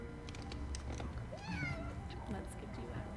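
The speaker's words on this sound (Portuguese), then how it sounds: "Your fucking cat." A house cat meows a few times close by, a wavering cry over a constant background hum, with no clear talk.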